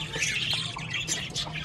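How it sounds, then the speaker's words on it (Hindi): A blue pet parrot kept in a home cage squawks and chirps, harsh and fairly close, in a continuous stretch of bird calls with no talking. "एक ये ब्लू वाला तोता"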